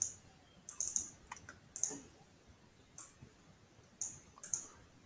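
Computer mouse clicks during work in Excel: crisp, close clicks arriving in quick pairs and singles at irregular intervals over a faint room hiss, with no talking.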